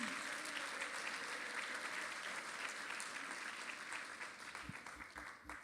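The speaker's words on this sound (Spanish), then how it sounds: "Dan un aplauso a nuestros hermanos de Venezuela." A church congregation applauds at a Sunday service, sustained clapping filling the room for several seconds before thinning out, with a few scattered louder claps and low voices near the end.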